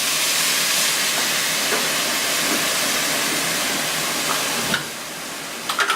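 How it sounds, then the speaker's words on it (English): White wine hits a hot chicken pan to deglaze it, giving a loud, steady sizzling hiss that fades sharply near the end, leaving a few short crackles alone with no talk. "Now we're going to deglaze this with white wine"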